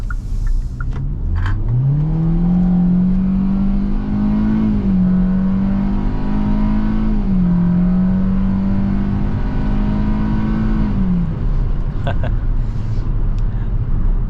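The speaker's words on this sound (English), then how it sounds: "The engine is definitely loud" A 2024 Hyundai Venue engine in sport mode revs up loudly, pitch climbing then holding steady with small shifts as it accelerates, a continuous close roar.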